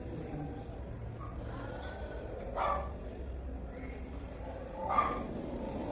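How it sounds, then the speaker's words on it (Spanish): A recording of a large dog barking plays during a hearing perception exercise, with two separate barks a couple of seconds apart over steady low background noise. "Es un perro grande."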